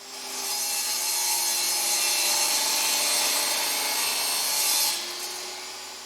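A handsaw cuts through wooden round stock, slicing off inch-long pieces for knobs, with steady back-and-forth rasping strokes close by for about four seconds, then easing off.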